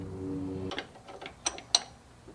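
A ratchet tightens a power steering return line fitting on a 1987 El Camino during an LS engine swap, several quick clicks and metallic knocks following a short mechanical hum, close and alone.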